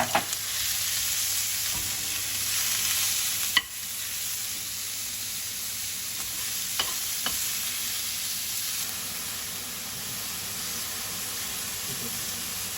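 Bean sprouts, tofu and minced pork stir-fry in a hot pan with a steady, loud hissing sizzle, broken by a few sharp scrapes and clanks of the spatula.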